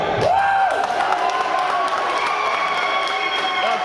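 Wrestling fans at an IWC Super Indy 3 independent show cheer and clap in a hall, a loud, steady crowd roar with a few whoops carrying through.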